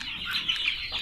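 Native free-range hens clucking on a small poultry farm, a steady close chorus of mid-pitched clucks and calls with no talking.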